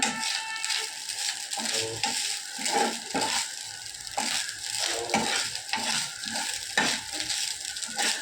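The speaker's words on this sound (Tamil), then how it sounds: "நல்லா எண்ணெயில் வதங்கணும்" Grated coconut and dried red chillies sauté in hot oil in a pan, giving a loud, continuous sizzle with rhythmic scraping and stirring strokes close up, and no voices.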